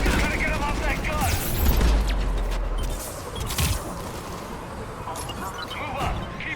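Sustained firefight from the shooter Mass Effect 3 on a mountain battlefield, with steady gunfire, booming impacts and crashes layered densely, and voices shouting under the shots.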